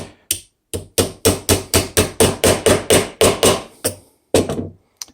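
A hammer strikes repeatedly in a quick, steady rhythm, about fifteen sharp hard blows with brief pauses near the start and end.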